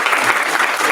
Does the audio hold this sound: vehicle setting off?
no